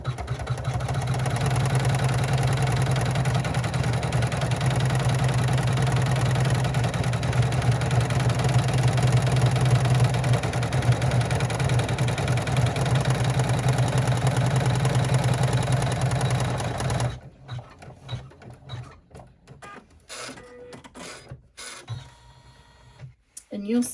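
An embroidery machine top stitches a thick striped clutch, humming steadily and loudly with a rapid needle rhythm for about seventeen seconds, then stops and leaves scattered handling clicks and rustles.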